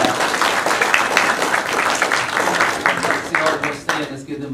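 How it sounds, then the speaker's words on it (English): An audience claps and applauds steadily, a dense wash of many hands, fading slightly at the close. "them a round of applause"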